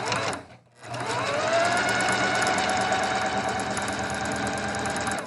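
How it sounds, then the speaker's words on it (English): A sewing machine stitches fabric in one steady, continuous run, loud and close, after a brief pause at the start. "I'm going to continue sewing, and then I'm going to pull the second pin out."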